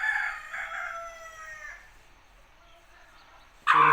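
An Aseel rooster crows loudly in one long drawn-out call that fades away, followed by quiet, then a sudden loud burst starts at the very end.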